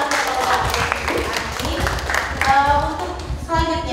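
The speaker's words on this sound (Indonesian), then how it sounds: "Oke, berikan tepuk tangan" Audience clapping at the close of a discussion session on tourism planning for Gua Pindul cave, a short burst of applause mixed with voices and a brief tone.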